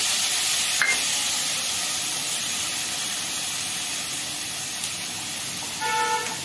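Tomato and capsicum frying in a pan for vegetarian khichuri, a continuous bright sizzle with a couple of light metallic clinks.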